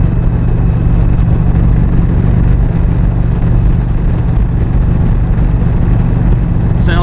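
A 2020 Indian Springfield motorcycle engine under way while riding, heard as a loud, continuous low drone mixed with steady wind rush, holding an even level throughout.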